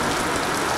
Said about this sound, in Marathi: पाऊस बघा केवढा आला